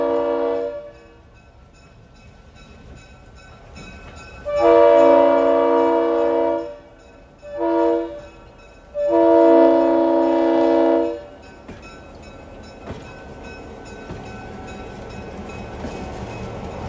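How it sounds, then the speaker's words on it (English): An RS5T air horn on a Nickel Plate locomotive sounds at a railfest: three loud blasts, a long one, a short one and another long one, rising over a quiet outdoor background. "with a beautiful RS5T horn. And you'll get to hear this."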